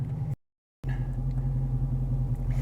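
A parked 2016 Dodge Challenger SRT holds a deep, steady engine rumble that drops out briefly near the start, then resumes loud and even.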